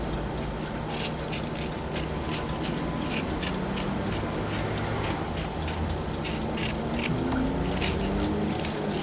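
The skin is peeled off a half-ripe mango with a quick run of crisp, rhythmic clicking strokes over a steady background hiss, close by and without speech.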